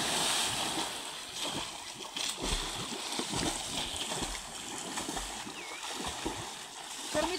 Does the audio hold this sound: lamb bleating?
no